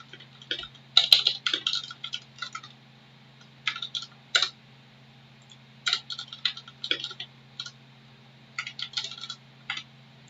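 Keys clatter on a computer keyboard in uneven bursts of quick clicks separated by short pauses, close and clear over a faint steady hum, with no talking.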